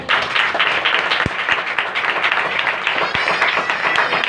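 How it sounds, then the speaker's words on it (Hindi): Loud audience applause at a Hindi-language Christian gathering, dense sustained clapping from a large crowd filling the whole stretch, with a few sharp thumps standing out. "मेरे यीशु के लिए एक बार जोरदार तालियां"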